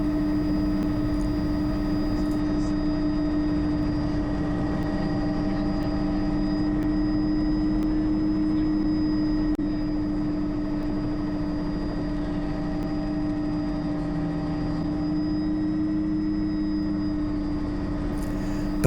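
A helicopter on a training flight over Kent turns in slow circles left and then right, its steady engine and rotor drone loud and constant throughout, with a faint high whine riding above.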